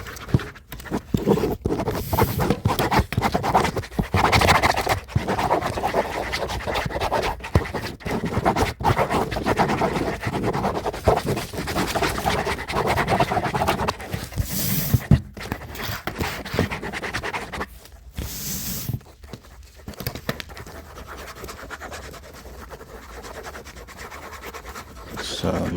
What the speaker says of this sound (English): Yeah, that is some writing sound